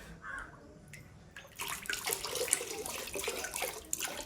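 Water poured from a small pot over hands on a farm, using the cattle's drinking water; a steady splashing pour starts after a quiet moment and runs continuously, fairly close.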